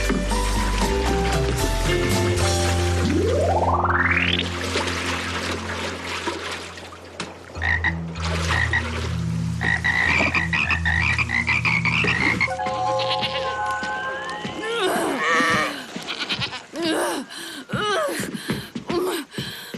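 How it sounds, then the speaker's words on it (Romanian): Cartoon frogs croak loudly amid a busy animated soundtrack, with deep repeated croaks, a rising whistle-like sweep, gasps, and splashy water effects layered over continuous music. "aveți broaște jos"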